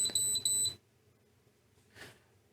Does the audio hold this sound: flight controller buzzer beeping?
yes